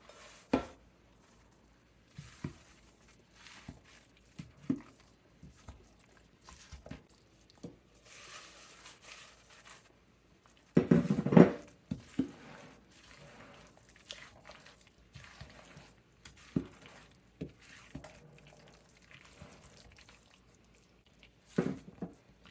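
Koki-corn dough being stirred together with spinach by hand in a home kitchen: soft squishing and scraping against a bowl, with intermittent clinks and knocks of a utensil and a louder burst of mixing partway through, no talking.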